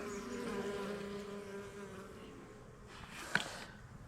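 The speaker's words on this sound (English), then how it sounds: "The bees are going right over there to the clovers." Honeybees in a winter-fed backyard hive buzz steadily as they fly toward nearby clovers, a continuous close droning hum with a brief sharper rise near the end.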